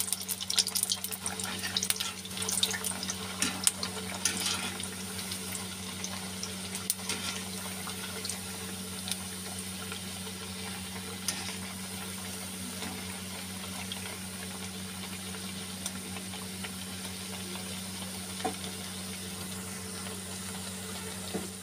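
Punjabi khasta mathri frying in a pan of oil, a soft steady bubbling hiss that stays even and fairly quiet, with a constant low hum beneath it and no voices.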